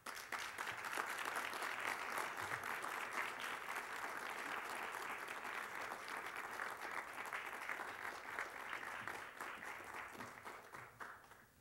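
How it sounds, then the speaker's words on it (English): A university audience applauds the speaker Gil after his talk, a full, even roar of clapping that stays strong and tapers slightly near the end, with no voices over it. "Let's give another round of applause for Gil"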